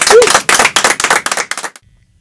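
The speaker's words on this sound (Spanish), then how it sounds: "Un fuerte aplauso para ellos, por favor." A small audience applauds with a short burst of hand claps that fades out quickly into silence.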